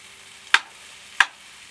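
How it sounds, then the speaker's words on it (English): Frozen broccoli sautéing in a pan beside fish on an RV stove, two quick sharp spatula scrapes over a faint, quiet sizzle. "I'm just sauteing up right next to the fish here"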